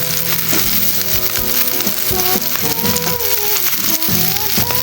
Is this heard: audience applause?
no